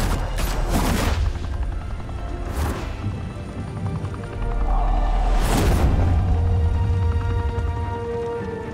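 Gunfire in Batman: The Telltale Series erupts in a few loud, sharp bursts at intervals, close and forceful over a low rumbling game background.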